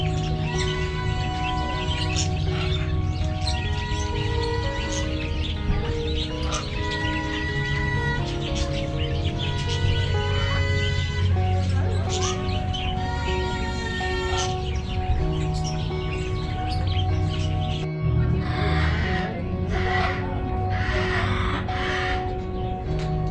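Many birds chirp and call at an outdoor aviary restaurant with over 50 birds, a dense layered chorus of tweets over steady background chatter and music, continuous and fairly loud throughout.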